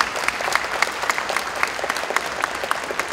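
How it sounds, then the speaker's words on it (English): Audience applause fills a hall at a vegetarian congress, a dense steady patter of many hands clapping throughout with no talk over it. "A big round of applause"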